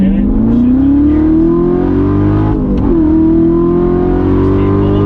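Chevrolet Corvette C7 Z06 with a 7-speed manual accelerating hard, engine note climbing steadily, dipping at a quick shift near the middle, then pulling loudly again, close and continuous.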